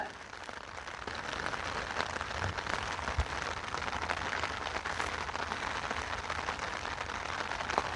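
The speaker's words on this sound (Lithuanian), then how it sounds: "Lietutis vėl barbena." Light rain patters steadily on surfaces by the lower Nemunas river during a fishing trip, a faint, even, continuous hiss of small drops with no talk.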